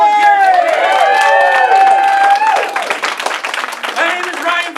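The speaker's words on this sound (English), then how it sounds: "A round of applause for my volunteers." An audience at a magic show claps and cheers for volunteers, the applause running under loud sliding tonal music that fades partway, leaving scattered clapping.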